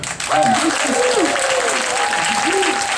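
An audience applauds live performers, sustained clapping with crowd murmur for about three seconds while a voice speaks over it.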